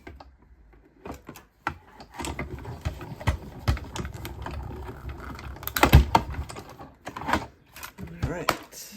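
Manual die cutting machine pressing a hexagon from paper scrap, a series of clicking, ratcheting mechanical sounds and thumps, close, with a person talking intermittently over them.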